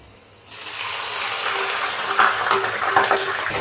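Water splashed into onions frying in hot oil for homemade degi biryani, an abrupt loud burst of hissing, crackling sizzle that stays intense and steady after a quieter start, with no talking.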